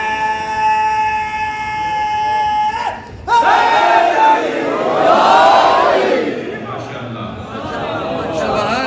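A crowd at a Shia majlis in Jaffria Colony, Lahore, loudly chants religious slogans in unison, voices rising in strong bursts with a brief break near the three-second mark.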